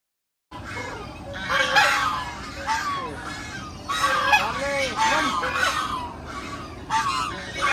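Geese or ducks honking on a dirty pond, loud repeated nasal calls in irregular bursts across the whole stretch, close by with several birds overlapping and no other sounds competing.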